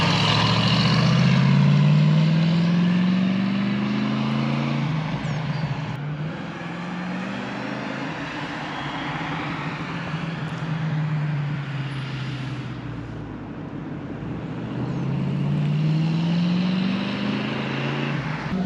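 A Ford Mustang engine revs and pulls away on a classic-car rally drive, with loud rising and falling engine sweeps as the car accelerates through gears and then keeps running at a steady drone.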